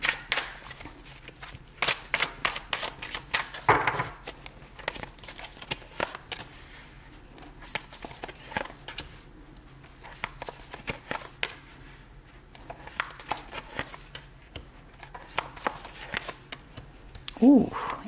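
Tarot cards being shuffled and handled, a run of soft papery riffles and flicks with a few sharper slaps, close by, while someone talks over much of it.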